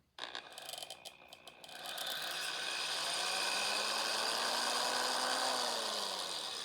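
A power drill bores into a part from a Honda GX160 engine, starting with a few clicks and handling noise, then spinning up into a steady whine that rises slightly in pitch and holds, close and fairly loud.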